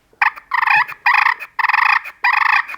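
A turkey gobble call mimics a gobbler, giving four rapid rattling gobbles in even bursts with short gaps, close and loud, no talking.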